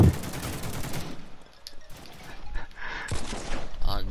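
Sniper rifle gunfire in a video game comes as a loud, dense burst of shots at the start, then sparser, quieter reports and clatter with a voice faintly in the mix.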